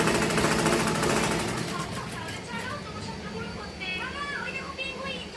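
A motorized sewing machine stitching a child's garment at home runs with a fast, steady mechanical rattle that fades slightly, while voices talk over it in the background.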